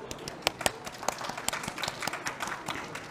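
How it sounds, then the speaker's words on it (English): Sparse, uneven clapping from a small conference audience thanking panelists at a sustainable finance forum, individual claps standing out at a moderate distance. "Let's give them a round of applause."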